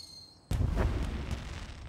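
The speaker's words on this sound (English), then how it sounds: "Fireworks?" Fireworks exploding in the dark, foggy sky above railway tracks, a sudden loud burst followed by crackling and a fading rumble.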